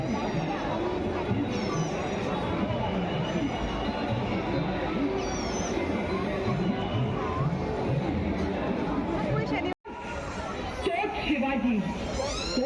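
Dense festival crowd at the Kasba Ganpati pandal in Pune, a steady loud babble of many voices and chatter, with one brief dropout near the end before the hubbub resumes.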